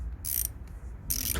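A manual ratchet wrench clicks while fitting Koni shock absorbers and Powerflex silent blocks on an Audi A3 1.8T. Two short bursts of fast, close metallic ticking stand out over a low background rumble.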